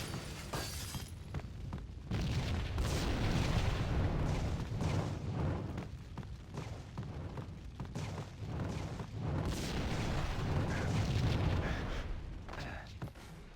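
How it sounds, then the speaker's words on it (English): A prolonged, rumbling explosion from the Max Payne video game, a dense roaring blast with crackling debris and repeated booming surges that continue loudly for over ten seconds. "Escaping through the world's slowest explosion."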